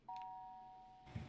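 A glitched ding chime in Shipwrecked 64 sounds once as a clean sustained electronic tone that slowly fades, cut off by a short muffled thump at the end.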